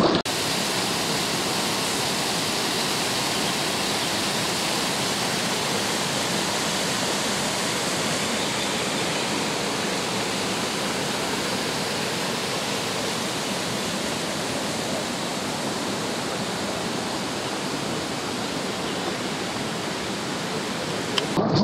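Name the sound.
river water flowing, Besorgues river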